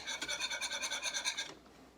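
Cornstarch is whisked into a lemon sauce mix in quick, even strokes, giving a rhythmic scraping rasp about seven times a second. The rasping is close and fairly quiet, then stops abruptly, leaving silence.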